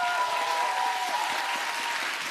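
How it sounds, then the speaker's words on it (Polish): Sustained applause from a large audience at a live junior Eurovision talent show, a dense steady roar of clapping filling the clip, with a faint held musical tone underneath early on. "Poprosimy jeszcze raz o wielkie brawa."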